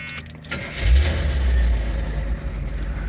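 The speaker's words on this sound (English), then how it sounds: "Do a warm start here. The engine is warm." A warm 1976 Corvette Stingray engine cranks briefly and catches, then settles into a loud, deep low rumble that holds through the rest of the moment.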